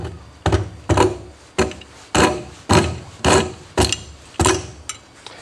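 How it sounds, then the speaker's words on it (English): Wood rasp rounding a wooden edge, about nine strong rhythmic scraping strokes, evenly spaced and close. "we want to round this edge. We can take the rasp"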